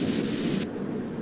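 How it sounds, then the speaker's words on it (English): Rockets firing in the video game Kerbal Space Program produce a loud, steady roaring rush that is bright and hissy at first, then dulls to a lower rumble, with no talk over it. "So now let's shoot off our rockets."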